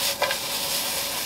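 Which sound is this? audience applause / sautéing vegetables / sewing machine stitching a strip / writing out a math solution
sautéing vegetables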